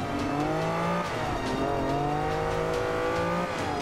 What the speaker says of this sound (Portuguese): Vou acelerar aqui e ver se a gente consegue passar mais um antes do final dessas curvas.